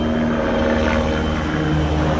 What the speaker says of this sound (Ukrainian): Вертоліт.